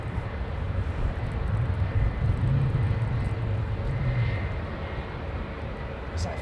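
An airliner departs from runway 09 with a steady, loud low engine roar that swells slightly and then holds, heard from a distance.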